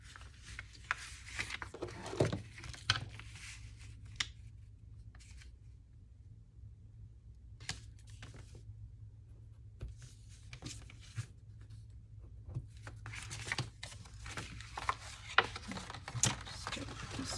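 Paper is cut to size for a handmade journal, with quiet rubbing, sliding and snipping sounds in irregular bursts, close and soft, separated by brief near-silent pauses.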